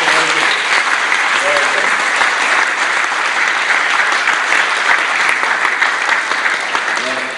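An audience applauds an 11-year-old student after her presentation at a learning technologies event. The clapping is loud, close and continuous, with a faint voice briefly audible underneath.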